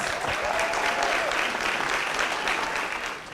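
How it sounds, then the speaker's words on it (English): Steady applause from a graduation ceremony audience in Eleuthera, dense clapping filling the whole stretch at an even level with no talk over it. "Please applaud her as she comes."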